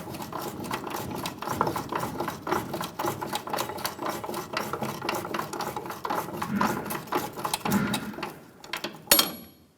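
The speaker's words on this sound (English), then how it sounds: "I'm working this bolt back and forth to break the rust inside of the bushing in the control arm" A rusted bolt being worked back and forth inside a control arm bushing on a 2014-2018 Chevrolet Silverado 1500, a close, rapid grinding squeak repeating in quick strokes, ending with a sharp metallic knock.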